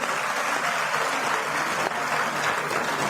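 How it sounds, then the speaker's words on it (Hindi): Sustained dense applause from an audience at a women's conference in Panchkula, loud and steady throughout with no voices rising above it. "जोरदार तालियां हमारे कार्यकारी अध्यक्ष साहब के लिए"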